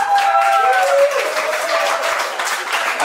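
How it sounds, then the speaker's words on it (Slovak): A wedding crowd claps for Katarína at a salaš after the bouquet toss, steady dense applause with a voice heard over the start. "Zatleskajme Kataríne!"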